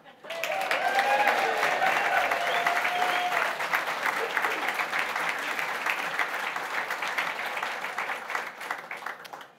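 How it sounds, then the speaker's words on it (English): A vigorous round of applause for the donors behind the 40 Oaks building swells quickly and carries on loud and sustained, while a voice briefly talks over the opening moments. "We could now have a vigorous round of applause for all those great people and organizations who had the faith to invest their money in this dream"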